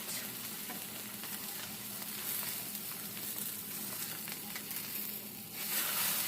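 A pork chop frying in butter in a pan gives a steady, close sizzle with soft crackling throughout, growing slightly louder near the end.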